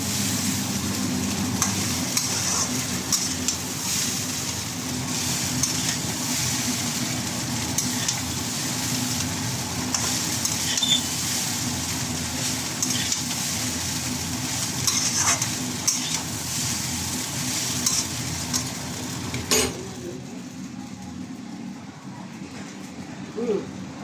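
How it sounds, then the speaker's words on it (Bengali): Chowmein noodles with sauce are stir-fried in a pan, a steady close sizzle with scraping and stirring throughout, a faint voice now and then, ending with a sharp clink and quieter sizzling. "এটা ভাজা ফ্রাই হয়ে গেছে আমার।"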